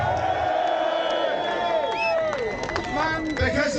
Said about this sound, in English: Let's have a cheer for the daughters of England.